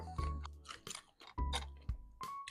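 Close, crisp chewing and crunching of pickled seafood in soy sauce, including jellyfish, in bursts of bites with short pauses between them, alone and fairly quiet.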